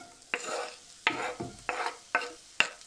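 Small-diced onion fries in a pan with three spoons of oil, a soft sizzle punctuated by about six sharp scraping stir strokes in a loose rhythm, each followed by a brief hiss.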